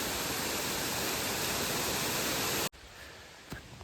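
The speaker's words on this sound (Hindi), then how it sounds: "मैक्लोडगंज में जो एक वाटरफॉल है ना उससे तो थोड़ा सा ठीक ही लग रहा है पानी भी ज़्यादा है उससे।" Waterfall beside the Everest Base Camp trek trail, a loud, dense, steady roar of rushing water that cuts off abruptly near the end, leaving faint background sound and a soft knock.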